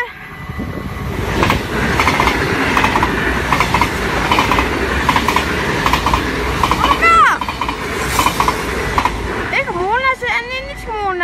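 A train passes on the railway at Maasbracht, a steady loud rolling rumble with clattering wheels throughout, and brief rising squeals or horn-like tones near the end, with voices faintly in the background.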